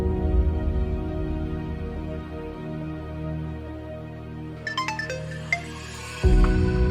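Phone ringtone playing with steady tonal repeats as the call goes unanswered, fairly close and clear with little else around, then a brief clatter and a change near the end.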